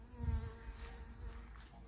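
A honeybee buzzes close by at a hive box, its drone swelling loudly as it passes near, then fading and returning more softly.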